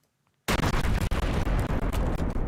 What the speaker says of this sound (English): You give me the explosion buttons.